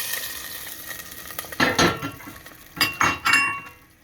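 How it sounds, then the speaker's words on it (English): Beans go into a single soup pot of pasta fagioli broth. Two bursts of clinking and scraping against the pot are heard close by, with quieter pauses between them. "now we're going to add our beans"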